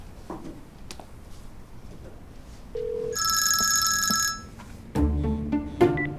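A telephone rings on an outgoing call, a steady electronic ring tone lasting about a second amid quiet room noise, followed by a brief click and faint clatter.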